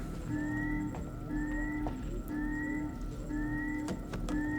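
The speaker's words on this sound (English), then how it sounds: "I hear that little chirping sound again." In the video game Alien Isolation, a small electronic chirp repeats every second or so, rising in pitch each time over a low mechanical hum, with occasional soft clicks and knocks.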